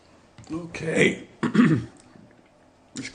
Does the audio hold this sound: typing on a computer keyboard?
no